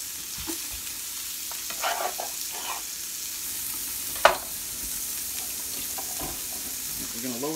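Garlic frying in a pan for chili gives a steady, quiet sizzle with occasional stirring scrapes and one sharp utensil clack, and no voices over it.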